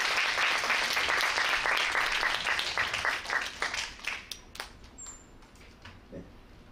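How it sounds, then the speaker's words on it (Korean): An audience at a career talk concert applauds, a dense burst of clapping that starts loud and then thins into scattered claps and fades away. "박수 부탁드리겠습니다."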